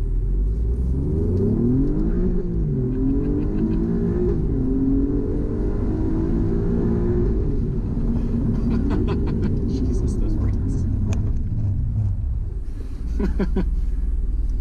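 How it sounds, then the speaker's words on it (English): An Alfa Romeo Giulia Quadrifoglio on an open road pulls hard, its engine and exhaust roaring loud and close as the revs climb through several gear changes, with a person talking over it. "That exhaust is killer, and it's fast, guys."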